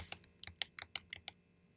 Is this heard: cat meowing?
no